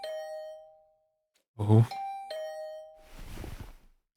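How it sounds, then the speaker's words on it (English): A two-tone doorbell chime rings repeatedly in The Hundred Line -Last Defense Academy- video game, clear ding-dong tones at the start and again midway, with a brief spoken exclamation and a muffled thump between them. "Hearing the doorbell stubbornly ringing again and again, I finally got up."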